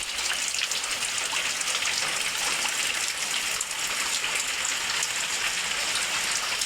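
Heavy rain pours outside in a dense, unbroken hiss that stays loud and steady throughout, with no voices.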